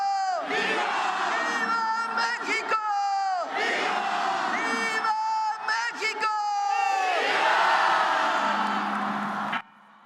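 A large crowd at a Mexican independence celebration roars Viva México in repeated loud chanted bursts, each swell followed by a brief lull, with the final cry cutting off abruptly.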